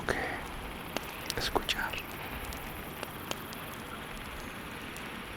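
Rain falls steadily in a forest, a constant soft hiss with scattered droplet taps, under a quiet whispered voice near the start.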